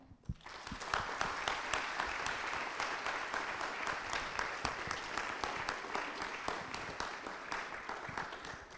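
An audience at a university talk on teaching applauds to welcome a speaker, steady close clapping from many hands that swells quickly and holds for several seconds.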